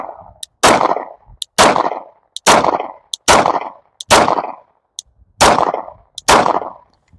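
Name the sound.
gunshots from Glock 9mm Gen 3 handgun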